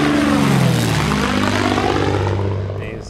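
A propeller airplane flying between the mainland and Beaver Island drones loudly overhead, its engine pitch sliding downward as it passes and slowly fades away.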